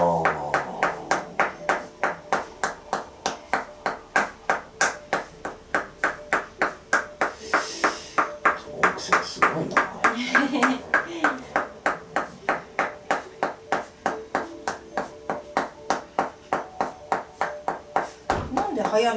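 Tok Sen massage on a man's thigh and back of the knee, a wooden hammer tapping a steady rapid rhythm of evenly spaced knocks throughout, close and clear, with people talking quietly underneath.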